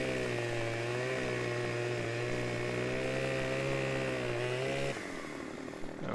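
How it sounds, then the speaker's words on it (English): A video-game chainsaw from Farming Simulator 15 cuts through a tree: a steady, loud buzzing engine drone that holds for about five seconds, then drops off abruptly as the cut finishes, leaving a lower idle. "hold down left mouse button, I'll cut through the tree"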